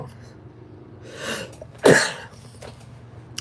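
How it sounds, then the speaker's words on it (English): A single close, sharp sneeze from a person, preceded by a brief inhaling build-up and followed by quiet room noise. "Hold on, I gotta sneeze."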